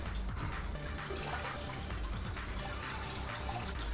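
Water trickles steadily and continuously into an aquarium tank, a soft even splashing that doesn't let up, heard from close by.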